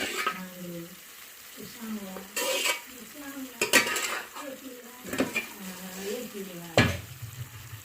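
Chicken pieces are stirred through a sizzling pan for a home-style chicken fry, spoon scrapes and metallic clanks recurring in irregular bursts over a low hiss, while a voice talks intermittently in the background.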